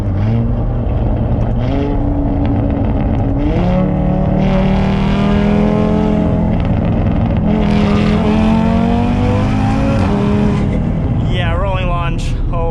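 An 800 HP big-turbo Audi RS3 with a built motor does a rolling launch, its engine climbing hard through rising revs and shifts, loud and close from inside the cabin, with voices talking over it.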